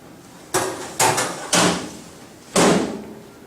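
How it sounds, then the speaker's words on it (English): Four firm metallic bangs ring out as the front door of an Insinger Commander 18-6 dishwasher is closed, spaced unevenly over a few seconds, close and loud, with no voices. "closing the front door,"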